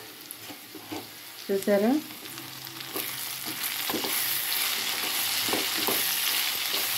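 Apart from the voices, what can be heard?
curry sizzling while cooking in a pan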